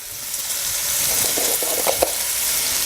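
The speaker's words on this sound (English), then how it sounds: "let's wait for this bacon to cook down" Bacon sizzling steadily in a frying pan, a loud constant crackling hiss with a few sharper pops near the end.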